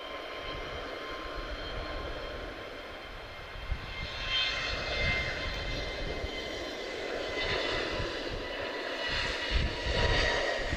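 Steady, broad engine roar from an Airbus A321neo jet departing Lisbon Airport, rising slightly in loudness as it climbs away, with continuous rumble throughout and no voices.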